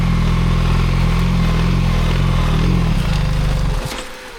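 A motorcycle's rear wheel spins in deep, soft ground at about 23 km/h without moving the bike, giving a loud, close, steady engine drone that drops and fades out near the end.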